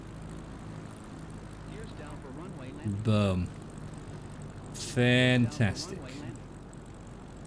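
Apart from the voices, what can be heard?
propeller plane landing on runway in a flight video game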